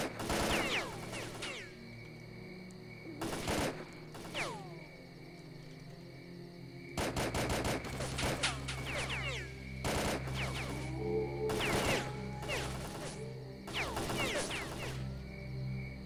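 Bursts of automatic gunfire in S.T.A.L.K.E.R.: Call of Pripyat crackle in several clusters over a steady insect-like ambient drone, some volleys loud and close, others shorter, spread across the stretch.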